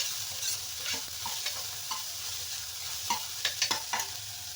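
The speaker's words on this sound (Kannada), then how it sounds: "ಮೆಣಸಿನ್ಕಾಯಿ 3 ಒಗ್ಗರಣೆಗೆ ಹುರಿದಾಕ್ತಾಯಿದ್ದೀನಿ." Three chilies frying in hot oil for a tempering, with a steady sizzle broken by a run of clicks and scrapes from stirring, loudest toward the end.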